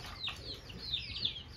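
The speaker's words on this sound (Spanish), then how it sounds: "Esos de ahí son los pollitos de raza ponedora." Month-old laying-breed chicks peep in a cluster, several thin high chirps overlapping close by with soft rustling beneath and no speech.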